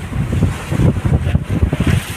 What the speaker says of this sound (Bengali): এখন নদীতে বিশাল ঢেউ চলছে